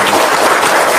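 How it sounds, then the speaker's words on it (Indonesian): An audience applauds in a short, dense burst of clapping, loud and close throughout. "Pas Tepuk tangan dong"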